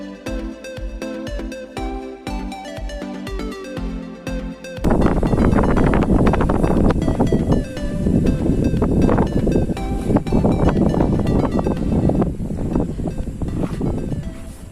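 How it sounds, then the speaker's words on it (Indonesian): Strong wind roars at a lookout tower about 1818 meters up overlooking Bandung. It begins as a steady rhythmic hum, then becomes a loud, gusty rush that buffets the microphone for several seconds. "Di sini berasa banget anginnya berhembus yang sangat kencang."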